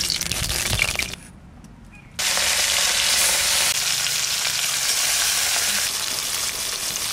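Bhetki fish frying in mustard oil in a pan, a dense loud sizzle that drops away briefly near the start, then returns strong and steady.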